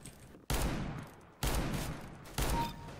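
Gunfire in the video game CS:GO: three loud, abrupt shots or bursts spaced about a second apart, each cutting in sharply and then trailing off in a noisy decay.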